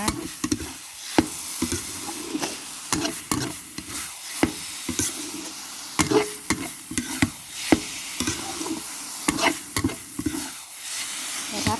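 Steamed mackerel chili paste being stir-fried until dry, a low continuous sizzle broken by frequent sharp scrapes and knocks of the utensil against the pan in an irregular rhythm.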